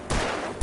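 A loud gunshot blast fires in the Alan Wake video game, sustaining for about half a second before a second sharp report begins at the end.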